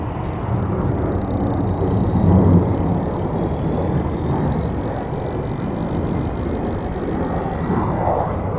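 A2B Kuo+ e-bike hub motor running on the throttle, making a steady low whir with road and wind noise that holds even and fairly loud throughout, with no talk.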